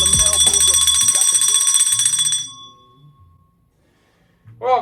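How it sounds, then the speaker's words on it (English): A bar bell rings out loud and close, a bright metallic ringing that sustains for a couple of seconds before fading away, with talk and music over the start and a voice returning at the end. "That's the ring for a beer bell, and that means it's time for some beer."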